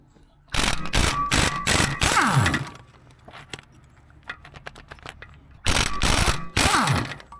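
A ratchet wrench clicks in quick rapid bursts while bolts come off the steering clutch of a John Deere 450B crawler, with loud metallic runs separated by quieter pauses and faint clinks, close by.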